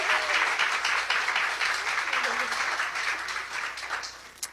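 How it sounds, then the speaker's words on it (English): An audience at a book launch event in a New York City store applauds warmly, a dense, steady wash of clapping that fills the room and continues throughout before tapering at the end. "Let's give her a warm round of applause."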